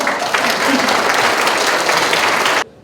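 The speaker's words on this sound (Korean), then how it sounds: "괜찮으시면 박수 한번." A conference audience at a semiconductor industry forum bursts into loud, dense applause that holds steady for over two seconds and then cuts off abruptly.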